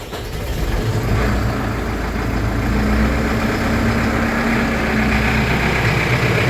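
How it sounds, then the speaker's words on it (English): Loud, steady tractor engine idling close by on a dairy farm in winter, warming up to mix feed, a constant low rumble with a faint whining tone, no voices. "I got both tractors going. They're warming up right now to mix feed."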